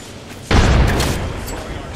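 A frag grenade from the Apex Legends shooter detonates with a sudden loud boom, followed by a rumbling decay and scattered debris, while a player's voice is heard around it.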